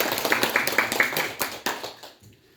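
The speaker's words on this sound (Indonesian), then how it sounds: "kita berikan aplaus untuk" A small group of teachers claps for a presenter after a session on positive school culture, a run of sharp, close, fairly regular claps that thins out and fades within about two seconds.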